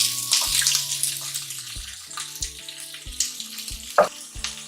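Chopped onion, ginger and garlic fry in hot oil with a steady crackling sizzle close up, broken by a few soft knocks and scrapes of a utensil in the pan.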